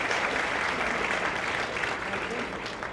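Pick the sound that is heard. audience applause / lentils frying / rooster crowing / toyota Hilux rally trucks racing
audience applause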